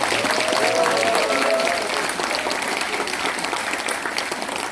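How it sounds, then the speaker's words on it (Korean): Sustained, thick applause rolls through the hall at a merchants' graduate school graduation ceremony, a faint voice briefly heard under the clapping early on before the crowd keeps applauding steadily. "다시 한번 뜨거운 박수 부탁드리겠습니다"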